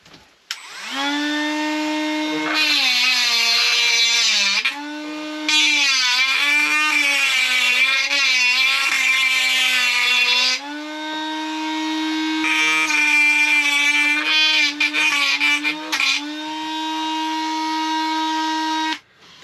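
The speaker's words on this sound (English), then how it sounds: "So I'm going to see if I can grind this down and see if I can get anywhere with it." A power tool whines loudly and steadily as it grinds down a 3D-printed nut for a roof rack roller, rising and dipping in pitch under load, with short pauses between long grinding passes.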